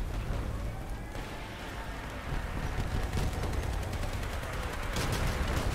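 Dense, continuous gunfire and rattling shots from vehicle combat in the game Crossout, loud and close, with rapid bursts running throughout.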